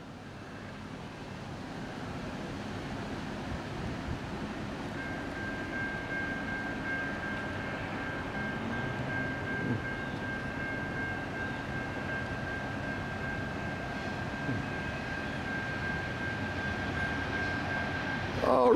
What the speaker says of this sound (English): here we have Norfolk Southern 234 eastbound here at Canal Drive in Chesapeake, Virginia. Slowly making its way to Canal Drive.